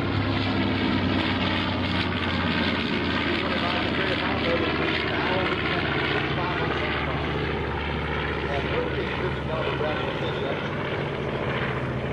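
Propeller engine drone of a B-25 bomber passing at a warbird airshow, a loud continuous roar that holds throughout, with an announcer speaking over it.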